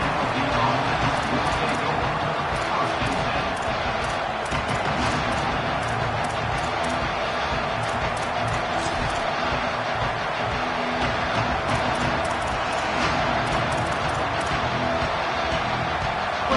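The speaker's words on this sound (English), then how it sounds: "This crowd ready to make its presence known." A dense, constant roar of a football stadium crowd fills the air during a kickoff return, loud and unbroken throughout.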